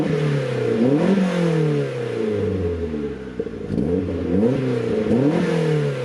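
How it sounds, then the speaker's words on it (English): A turbocharged Mazda Miata engine revs up and down repeatedly after warming up, rising and falling harmonics in several blips, loud and close with no talking. "once again give it a few revs"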